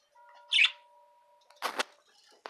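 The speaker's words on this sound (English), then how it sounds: "birds are out having a good time" Bird chirps outdoors: a bright chirp early on, then a pair of louder broadband calls and a brief final one, set against a faint steady tonal background hum.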